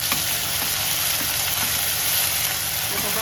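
Chopped onion fries in oil in a pressure cooker, making a steady, even sizzle that holds close and constant throughout with no pauses.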